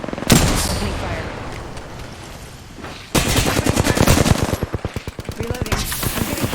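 Gunfire from the video game Valorant: a roaring burst at first, then rapid automatic shots in a steady rattling rhythm, loud and close.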